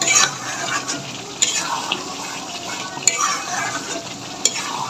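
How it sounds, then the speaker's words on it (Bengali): Chicken frying in masala in a pan for biryani as a little water is added, then stirred: bright steady sizzle with scraping spoon strokes and a few sharp clinks, close up, no talking. "আমি এখন সামান্য একটু পানি দিয়ে দিচ্ছি।"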